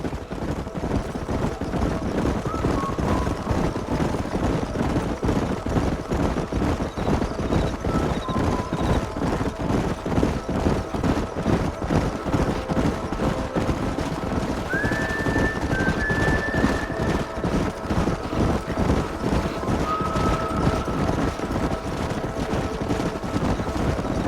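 Several horses gallop in Red Dead Redemption, a continuous dense rhythmic pounding of hooves at steady loudness for the whole stretch, with faint tonal sounds drifting in and out.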